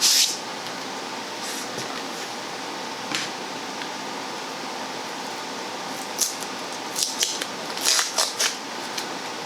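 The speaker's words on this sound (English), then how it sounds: "So I'm probably gonna cut it about right here in the middle, and then another slice." A knife cutting watermelon into slices, giving scattered crisp crunching and slicing sounds over a steady background hum, close and moderately loud.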